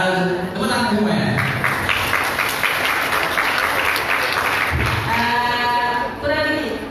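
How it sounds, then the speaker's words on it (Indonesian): Audience at a health talk on propolis and immunity claps together, loud and sustained crowd clapping with a voice speaking over parts of it. "tepuk tangan semua ya"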